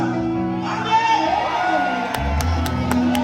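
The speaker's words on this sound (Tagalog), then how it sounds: "Lahat po ng anak ng Diyos ay sumigaw na malakas na." Crowd at a Jesus festival parade in a town center shouts and cheers together, loud voices rising and blending, with a few sharp bursts near the end.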